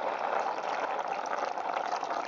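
Water is poured into a pot of vegan green bean stew with tomatoes, giving a steady, moderately quiet rushing and gurgling fill that lasts the whole moment without talk.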